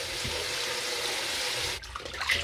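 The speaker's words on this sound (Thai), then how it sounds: "ล้างทีละใบแบบนี้เลยค่ะ" Dishes or small items being rinsed one at a time under running tap water, a steady continuous splash that breaks off near the end into softer drips and clinks.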